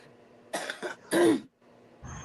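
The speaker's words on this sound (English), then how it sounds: "I was having a coughing spell" A coughing spell during an online call: several rough coughs in uneven bursts over about two seconds, close and fairly loud, with a short pause before a final weaker burst.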